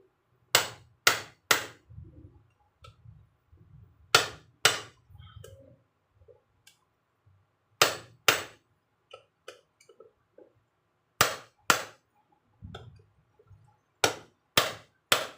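Sharp metallic hammer strikes on a Phillips screw while assembling a Yamaha RS100T motorcycle, mostly in quick pairs with pauses between, loud and close, alongside softer clinks and handling noises.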